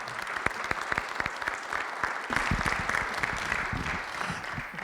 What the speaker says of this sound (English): but our wonderful Lisa should get her own round of applause.